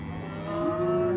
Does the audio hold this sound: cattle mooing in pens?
yes